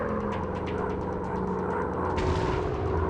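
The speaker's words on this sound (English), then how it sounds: "I've got this target. Firing rockets. I got that flak destroyed." Rockets firing and explosions in an air combat video game attacking an ammo convoy, a dense, continuous rumble of rapid booms and blasts that swells louder toward the end.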